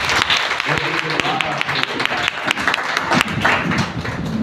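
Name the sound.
audience clapping for Christ in a church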